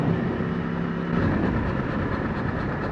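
A Yamaha R1 with a crazy tight spot in its chain and a worn sprocket is ridden, giving a continuous, loud rumbling rattle with a rhythmic mechanical clatter that stays steady throughout and has no voices over it.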